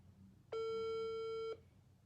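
A single phone ringback tone, steady and clear, sounds for about one second while waiting for the other side to answer a call, with quiet background before and after.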